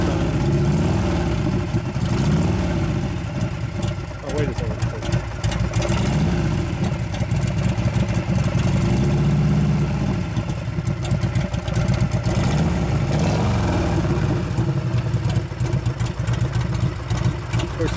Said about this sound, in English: Something starts up right away that he's worked on.